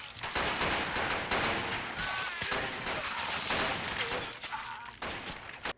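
World War II rifle fire in a Warhammer 40K battle sandbox game mod: dense, continuous volleys of overlapping gunshots and crackling bursts, loud and close, with no pauses throughout.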